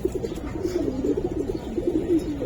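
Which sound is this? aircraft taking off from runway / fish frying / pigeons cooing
pigeons cooing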